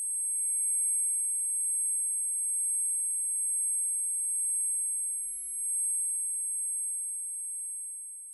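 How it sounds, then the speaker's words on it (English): Eerie high-pitched tinnitus-like ringing after an explosion in an audio drama, a steady thin tone held for about eight seconds, alone with no talk. "eerie, ringing noise."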